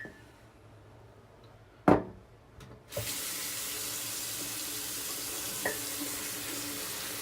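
Water runs steadily from a bathroom tap while a shaving mug is filled during a wet shave, a loud continuous splashing hiss that starts abruptly after a couple of sharp knocks and continues to the end.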